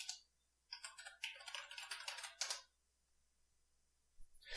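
A command typed into a terminal on a computer keyboard, heard as a quick close flurry of key clicks that stops, with quiet afterward and one more tap at the end.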